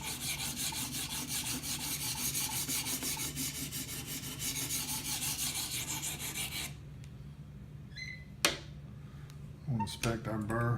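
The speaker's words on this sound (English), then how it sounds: "I'm using a diamond stone here, so it cuts really, really fast." Knife blade drawn steadily across a 400 grit diamond stone in a guided sharpener, a dense continuous rasping scrape for most of the span, then a pause with a sharp click and brief handling noises near the end.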